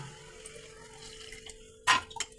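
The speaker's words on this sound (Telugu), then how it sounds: "నీళ్ళు వేసుకోవాలి" Water poured from a tap or vessel into a pot of goat head curry in a home kitchen, a brief close splash near the end after quiet kitchen background.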